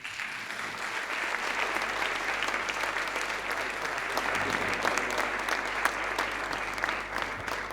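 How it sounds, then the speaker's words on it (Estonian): Steady, moderately loud applause from a playback show audience welcoming the jury to the stage, sustained clapping that continues evenly throughout. "Palun, teeme neilegi aplausi."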